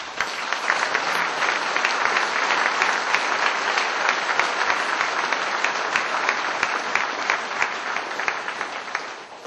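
Audience applause at a Gyeonggi provincial police commissioner's retirement ceremony: a large crowd clapping densely and steadily for about nine and a half seconds, loud and even without letting up.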